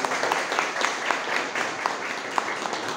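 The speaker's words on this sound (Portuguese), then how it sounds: "Uma salva de palmas." Audience applause at a formal legal academy ceremony held in a city council chamber, a steady moderate clapping with scattered sharper claps, continuing evenly throughout.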